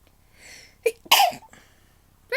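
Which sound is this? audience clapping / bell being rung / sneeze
sneeze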